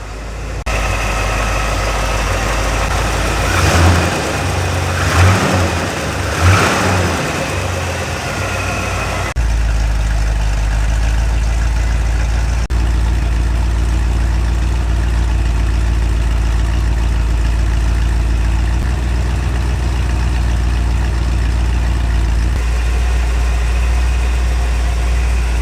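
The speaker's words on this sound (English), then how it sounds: "the engine bay is so much more quiet now" A Jeep Gladiator engine idles steadily with a low, even rumble, close and continuous for the whole stretch, with a few brief revving swells early on and no talk.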